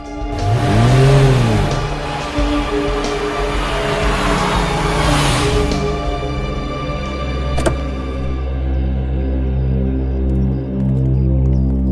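A car slows and pulls over to park on a narrow residential lane, its engine rumbling steadily close by with a brief rising rev near the start, then settling to a low idle.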